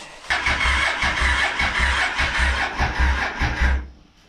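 Old wrecked vehicle sitting in a garage, its engine cranked by the starter in a loud, fast rhythmic churning that lasts about three and a half seconds without catching, then stops.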